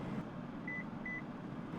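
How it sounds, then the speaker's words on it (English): Two short, evenly spaced electronic confirmation beeps from the headrest control of a Lexus LX 600, clear and close over a faint cabin hum. "When you hear the 2 beeps,"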